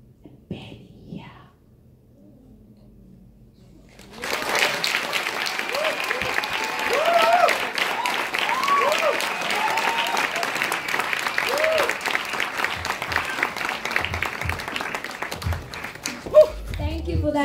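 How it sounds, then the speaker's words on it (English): Loud audience applause breaks out after a quiet stretch at a music festival performance, sustained dense clapping from a large crowd, with a few cheers and murmurs mixed in. "Another big round of applause for him, please"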